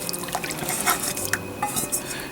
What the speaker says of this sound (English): Pouring the sauce over.